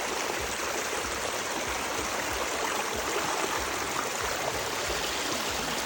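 A natural river stream flows steadily in Clarendon, Jamaica, a continuous close rushing and trickling of water with no talk over it.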